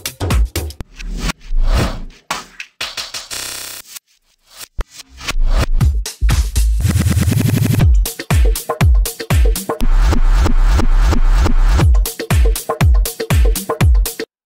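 Random glitch effects from the InstaLooper3 plugin chopping a loud beat into stutters, rapid retriggered repeats, sudden dropouts and sliding pitch sweeps, all in an irregular, choppy rhythm.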